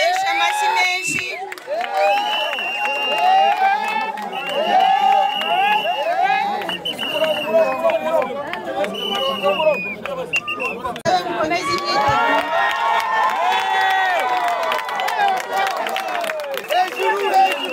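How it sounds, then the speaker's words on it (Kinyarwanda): A crowd at a sports award ceremony closing the Kagame Cup sector games in Rwamagana claps, cheers and shouts, with children's voices and excited chatter rising and falling across a long, lively stretch. "Amashyi menshi."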